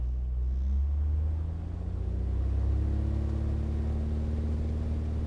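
A Beechcraft V-tail Bonanza's piston engine runs up loud and steady for takeoff, a deep droning hum with rising tones heard from inside the cockpit.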